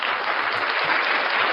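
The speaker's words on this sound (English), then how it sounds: "Give this man a round of applause." Steady crowd applause fills the whole short stretch, dense and even with no pauses, as an audience claps for a man at a live broadcast.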